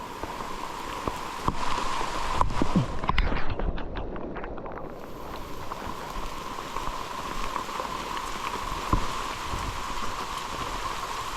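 Steady rain patters on a surface at a mountain camp, with scattered drops and gusts of wind buffeting the microphone, continuing throughout.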